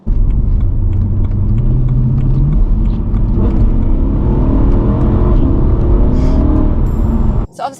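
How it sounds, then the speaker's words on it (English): A BMW E93 M3 with its naturally aspirated V8 pulls hard under acceleration, a loud, close, rising engine growl and rumble that holds for several seconds before cutting off abruptly. "When you do put your foot down a little bit, there is that nice bit of grunt"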